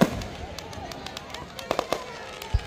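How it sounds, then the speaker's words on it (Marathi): Firecrackers going off on a beach during New Year celebrations, a scatter of sharp cracks and pops, some distant and some closer, with a few louder bangs over crowd noise and voices. "हा फटाके ना"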